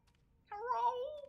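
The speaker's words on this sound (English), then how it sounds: "Oh, I hear more cats." A single drawn-out cat meow rises and falls over about three-quarters of a second in the horror game Tsugunohi, clear but moderately quiet against a near-silent background.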